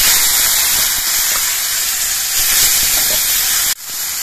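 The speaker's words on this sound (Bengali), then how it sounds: "তেলটা গরম হয়ে যাওয়ার পর এর মধ্যে দিয়ে দিচ্ছি একটা শুকনো লঙ্কা আর হাফ চামচ সর্ষে। এবার এর মধ্যে করমচাগুলোকে দিয়ে দিচ্ছি।" Karamcha fruit drops into hot oil with dried chili and mustard seeds, giving a loud, steady, steamy hiss and sizzle up close that briefly breaks off near the end before resuming more quietly.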